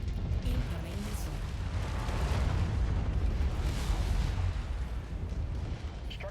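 Incoming missile explosions in Mechwarrior 5 pound out as a continuous low, rumbling roar of blasts, steady and heavy throughout with no clear breaks.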